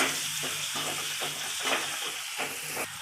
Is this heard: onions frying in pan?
yes